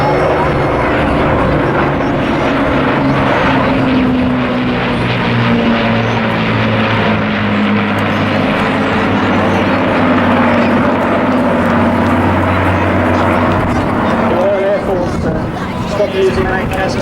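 Avro Lancaster bombers flying past at the Clacton airshow, a loud, sustained droning roar of piston propeller engines that swells and holds as the aircraft pass, with crowd or commentary noise mixed underneath.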